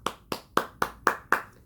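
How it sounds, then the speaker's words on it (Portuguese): Six slow, evenly spaced hand claps ring out close by and fairly loud, sounding like a small group or single person clapping after a story reading. "Quem gostou, bate palmas."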